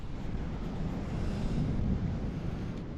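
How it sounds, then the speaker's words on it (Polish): Strong wind roars steadily across the microphone on Scheveningen beach in the Netherlands, a loud low buffeting rumble with no voices, like gusts blowing on an open beach. "Wiater jak cholera, jak to na Scheveningen i na tych innych wszystkich plażach tutaj."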